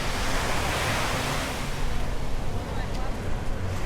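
Surf rolls and washes onto the beach at the Paphos sea front in Cyprus, a broad, continuous roar of waves mixed with wind buffeting the microphone.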